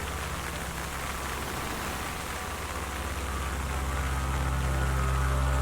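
Steady rain falls outdoors over a garden during bare root tree planting, a dense continuous hiss that swells slightly louder toward the end, with no talking.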